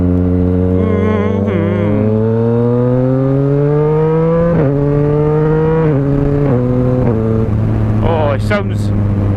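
A Yamaha MT-09 motorcycle with a Black Widow 200mm exhaust revs loud and close, climbing through several quick up-shifts on a quick shifter, each marked by a brief drop before the engine note rises again.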